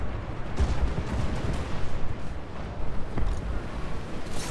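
Cannon fire in the fantasy strategy game Total War: Warhammer 2, with dwarf artillery booming through a dense, continuous battle din of repeated blasts and rumbling impacts.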